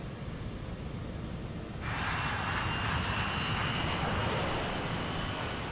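A KLM jet airliner races down the runway toward the camera at nearly 200 mph, its engine roar steady at first and then swelling sharply into a loud, broad rushing blast that holds to the end.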